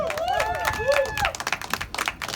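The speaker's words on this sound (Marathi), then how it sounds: "हरीशजी यांच्यासाठी जरा जोरदार टाळ्या होऊन जाऊ" Audience clapping at a Marathi film song launch event, beginning under a sustained melodic tone and turning to scattered, lively applause in the second half.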